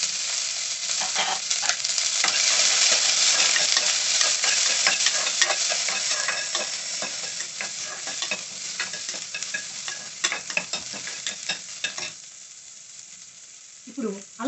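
Onions fry in oil in a pan for a gongura prawn curry, giving a steady, loud, close sizzle broken by the scrape and clatter of stirring throughout.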